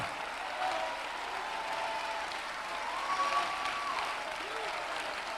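Continuous clapping from a church congregation at a worship service, a dense, even patter of many hands that holds steady throughout, with faint voices mixed underneath.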